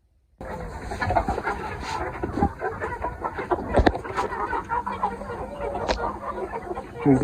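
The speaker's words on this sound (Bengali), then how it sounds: "মুরগি দেখুন খাচ্ছে। এরা ঘাস পাইলে খুব আনন্দ সহকারেই খায়।" Native free-range chickens clucking softly and repeatedly while pecking at freshly cut field grass, close by outdoors, with faint rustling and a few louder calls.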